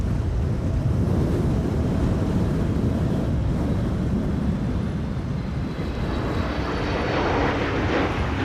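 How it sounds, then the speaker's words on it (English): A Transavia Airbus A321neo arriving at Amsterdam Schiphol on a stormy day, its jet engines a steady broad roar mixed with heavy wind buffeting throughout. "Next up, Transavia flight 5954, arrival from Lisbon,"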